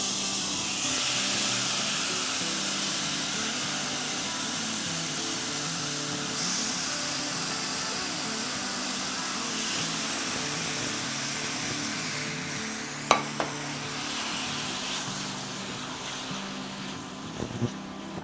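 Marinated prawns hiss and sizzle in a preheated skillet for a butter prawn karahi, a steady, loud, broad frying spray with a few sharp clinks near the end.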